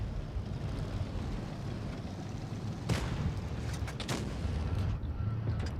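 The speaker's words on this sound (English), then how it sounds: "Armor-piercing strike" An armor-piercing artillery strike in a video game lands as a couple of sharp, heavy blasts over a steady low rumble of wind and engine noise.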